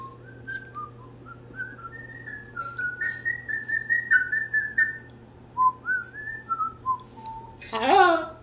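Someone whistles a wandering melody of short, rising and falling notes, close and clear, ending with a brief higher squeaky sound.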